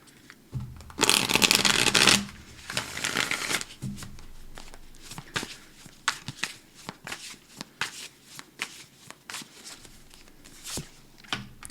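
Tarot cards are riffled and shuffled up close, a burst of fluttering followed by softer slides and scattered taps.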